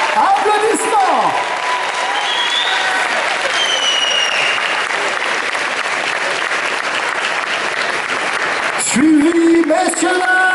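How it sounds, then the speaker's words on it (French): Audience applause at a Paris Manga 2023 convention panel welcoming actors, a sustained, loud wash of clapping with cheers and voices mixed in, swelling again near the end. "Applaudissements."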